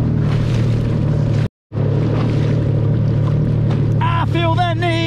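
Jet ski speeding across Subic Bay, its engine droning loud and steady with wind and water rush, a brief cutout near the start, and a voice rising at the end.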